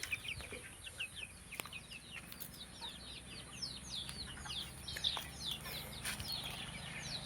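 Desi country chickens on a small farm cluck in a steady scatter of short calls, with chirps mixed in and a constant hiss in the background, moderately near and no talking.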